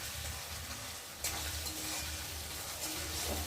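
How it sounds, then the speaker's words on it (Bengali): Garlic frying in oil in a home kitchen, a soft continuous sizzle with faint crackle and a few stirring sounds, fairly quiet and steady without speech. "আর এদিকে রসুনটা ভাজা ভাজা হচ্ছে"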